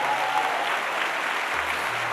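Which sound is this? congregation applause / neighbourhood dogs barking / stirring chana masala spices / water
congregation applause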